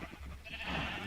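A single short sheep bleat from Minecraft, quiet and brief, heard alone.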